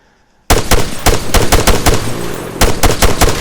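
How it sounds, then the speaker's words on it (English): Automatic gunfire in the military shooter game ArmA 3: loud, sharp bursts of rapid shots that begin abruptly after a quiet start, pause briefly, then resume in quick repeated cracks. "Shoot the window, shoot the rotor."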